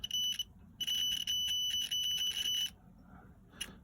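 A multimeter gives a shrill electronic continuity beep as its probe touches a prong of a boat oil switch, sounding in a short burst then a longer steady tone, close and clear.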